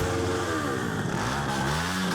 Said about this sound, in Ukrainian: Мотоколона з понад сотні двоколісних вирушила до флагштоку.